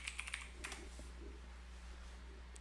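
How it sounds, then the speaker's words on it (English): Quick bursts of keystrokes on a computer keyboard as a password is entered, a short cluster of close, light clicks followed by a few more taps, then quiet with a low steady hum. "Type in your password for your virtual machine"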